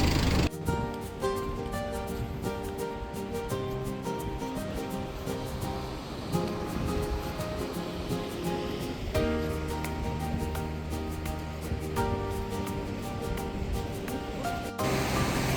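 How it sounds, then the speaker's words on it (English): A river rushes steadily beside a mountain trekking path on the Langtang trek in Nepal, a continuous broad roar of flowing water close by with no talk over it. "There's a river flowing right next to us on our left side"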